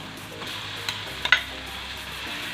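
Garlic, onion and ground meat sizzle softly in a pan for palabok sauce, a low steady frying hiss with a few sharp utensil clicks and scrapes against the pan near the middle.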